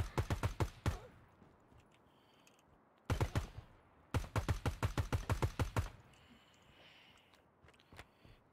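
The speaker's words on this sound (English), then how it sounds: "Panic shooting." Airsoft guns in a milsim game fire in rapid clicking bursts, a short string of snappy shots followed by a longer rapid volley, close and crisp over quiet outdoor background.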